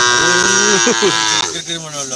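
Cattle moo loudly nearby at a Madura bull race, a drawn-out lowing call followed by shorter bellows, with background voices.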